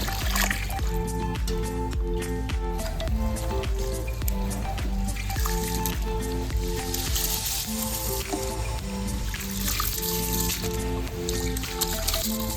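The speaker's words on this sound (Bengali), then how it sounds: "চাল ভালো করে ধুয়ে নিচ্ছি" Rice washed in water, wet squishing and sloshing with drips and trickles, close and continuous, while steady tonal background music plays underneath.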